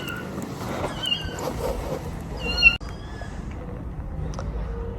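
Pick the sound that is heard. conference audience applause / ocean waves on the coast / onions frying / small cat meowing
small cat meowing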